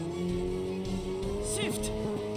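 A car engine roars steadily in the visual novel game Steins;Gate 0, a loud continuous drone with a rising whine and a brief squeal, heard under a spoken voice.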